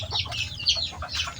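Gamecock roosters kept for fighting, clucking and calling in short nasal bursts close by, with several overlapping calls and no clear crow.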